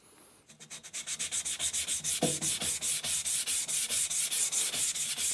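A blade is pushed and pulled across a vitrified sintered diamond whetstone in quick, regular strokes, each a close gritty scrape, about two dozen in a steady rhythm after a brief quiet start.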